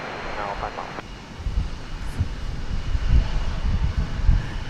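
An American Airlines jet departs DFW Airport, its engine rumble building gradually from moderate to louder in uneven surges, with a brief radio voice near the start.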